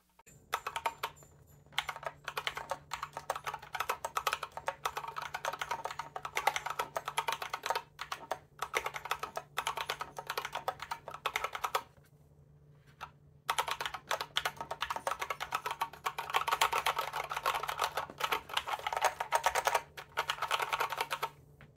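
Rapid, clicky typing on a System76 Launch mechanical keyboard, close and crisp, in continuous bursts with a brief pause midway.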